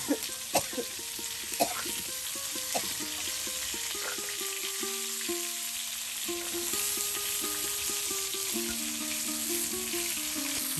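Fish frying in a pan for a Bengali curry: steady close hiss and crackle of hot oil with a few sharp pops early on, under a faint continuous tonal hum.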